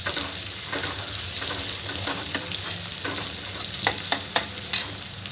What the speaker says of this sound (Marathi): आता आपला कांदा पूर्ण तळत आलेला आहे आपण आता टाकूया शिमला मिरची